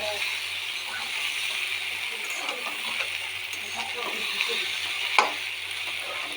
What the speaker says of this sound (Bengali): এঁচড় ভাজা হচ্ছে, এঁচড়টা ভাজা হলে তারপরে মশলা দেওয়া হবে।